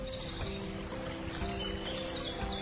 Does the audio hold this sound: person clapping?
no